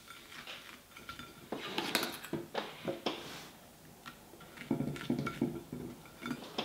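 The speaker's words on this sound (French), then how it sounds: "sur nos 4 bouts de pain, je vais répartir une fine couche de sauce" Sauce spread by knife across four slices of bread for a salmon wasabi club sandwich, giving close scraping and clinking of the knife against bread and plate in uneven bursts.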